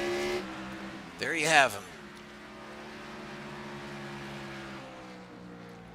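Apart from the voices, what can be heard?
race car engine, driver easing on the throttle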